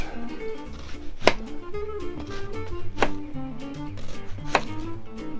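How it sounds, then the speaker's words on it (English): A knife slices through a brown onion on a board with three sharp, evenly spaced chops, close and distinct, under a low steady background. "Take one brown onion, slice him into good slices."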